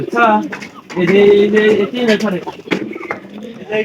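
Domestic pigeons cooing indoors in a house loft, several soft throaty coos up close mixed with people talking over them.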